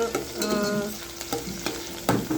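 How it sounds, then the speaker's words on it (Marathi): Chopped onion frying in oil in a pan for a spiced chicken soup, with steady soft sizzling broken by several sharp scrapes and clatters of stirring, close up and with no voices. "थोडासा असा नरम होईल कांदा एवढा फ्राय करून घ्यायचा आहे"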